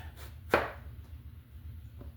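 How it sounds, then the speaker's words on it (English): A knife cuts through red onion on a board: one crisp, close chop stands out, with a fainter second cut later, over a low steady background hum. "cutting up some red onion"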